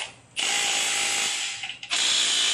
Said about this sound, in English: we're going to check them with the impactor real quick.